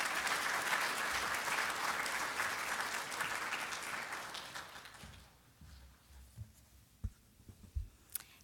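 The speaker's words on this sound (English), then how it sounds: "Please give them a warm round of applause." A loud wave of audience applause at a university master's hooding graduation ceremony, dense and steady at first, then thinning and fading out, leaving scattered claps and small knocks in a quieter room.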